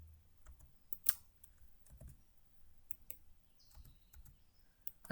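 Computer mouse clicks sound in sparse, sharp, quiet ticks, scattered irregularly through near silence, with a faint low hum beneath.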